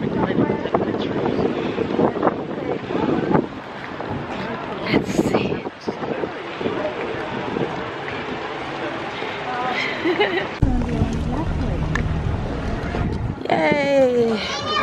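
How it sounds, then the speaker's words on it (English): Gusty wind buffets the microphone on a warm, sunny city street while walking toward a restaurant, a steady rumbling roar under people talking throughout. "It's a rather windy day"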